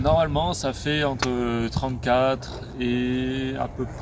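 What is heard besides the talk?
No everyday noises stand out.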